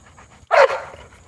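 An 80-pound dog lets out a single loud, close bark after a brief quiet stretch, followed by fading breathy sounds.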